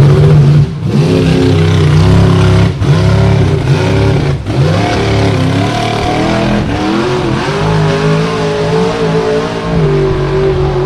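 A loud ATV engine roars and revs continuously in a hill-climb drag race at a ranch, with shifting pitch as it climbs and strains, close and dominant throughout.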